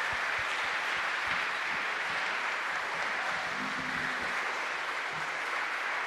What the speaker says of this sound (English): Can we get a round of applause for these beautiful women up here?